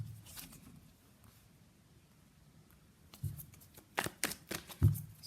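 Tarot cards are shuffled and pulled in a quiet room, with faint soft rustling at first and then several sharper, louder card snaps and flicks close by toward the end.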